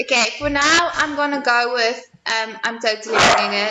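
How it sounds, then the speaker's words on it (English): Dogs bark loudly and repeatedly close by in a home, sharp yips breaking through and overlapping a person talking continuously. "Sorry about the dogs."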